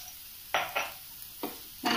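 Onions sauté in a pan with pepper, a low steady sizzle interrupted by four distinct bursts of spatula stirring scraping across the pan, and no voices.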